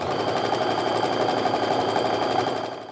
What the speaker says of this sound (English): I can just start sewing those guys together next